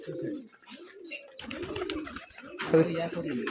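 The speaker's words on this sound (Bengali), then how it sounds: "কবুতর কি এখনই ছাড়ছেন নাকি সব?" Pigeons at a loft, just released, coo in soft repeated bursts up close, with fluttery movement and a background voice talking intermittently.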